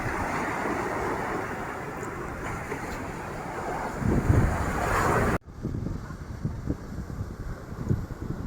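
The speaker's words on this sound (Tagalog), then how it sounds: "Malaki yung alon." Big ocean waves breaking on a beach at Agoo, La Union, heard as a loud, broad rushing surf with heavy wind buffeting the microphone, cut abruptly midway and then resuming as a rougher roar.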